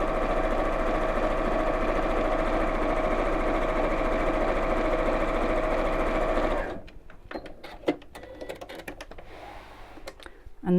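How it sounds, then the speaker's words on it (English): A sewing machine top stitches along the lining edge of a child's backpack, running loud, close and continuous for several seconds before stopping, followed by quiet fabric handling and clicks. "So just top stitch along one edge."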